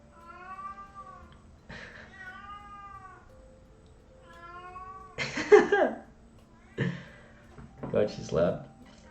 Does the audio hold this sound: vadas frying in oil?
no